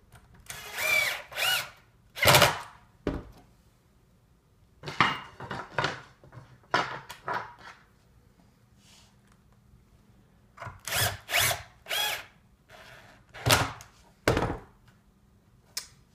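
Power drill driving screws through wall clips to mount a 17-inch Planar monitor, in a series of short whirring bursts separated by pauses and small clicks of handling, loud and close with no talking.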